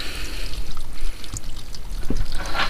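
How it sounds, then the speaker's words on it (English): Water drains and pours out of a container used for test-shooting rounds, a loud, steady splashing trickle close by with a few small knocks. "So we'll finish draining this water"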